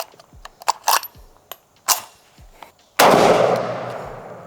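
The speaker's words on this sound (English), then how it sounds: "All right, let's see how she shoots. First shots, SKS." SKS rifle shots outdoors: a string of sharp cracks of varying loudness, followed by a louder blast that rings out and fades slowly.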